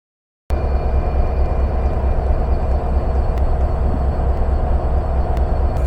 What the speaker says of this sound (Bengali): এই হলো আমেরিকান জায়ান্ট বাংলাদেশ রেলওয়ের 66 সিরিজের অত্যাধুনিক ব্রডগেজ লোকোমোটিভ 6636